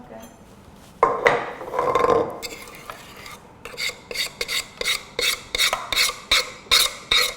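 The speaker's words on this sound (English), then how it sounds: "Maybe we can get the rest of it out of there with a spoon." A spoon scrapes pound cake batter out of a mixing bowl, first with a few heavy scraping strokes, then with a steady run of rhythmic, repeated scrapes; a brief spoken word is heard early on.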